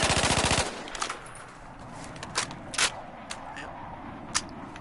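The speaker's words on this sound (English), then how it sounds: "let's test the reload speed" A carbine rifle in Battlefield 4 on a shooting range ends a rapid automatic burst. A series of sharp metallic clicks and clacks follows as the magazine is swapped and the weapon is readied.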